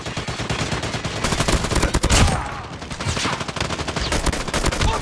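Gunfire in the mobile shooter game Call of Duty Mobile: dense, rapid automatic bursts crackle almost nonstop, loud and close, with a brief lull midway before firing resumes.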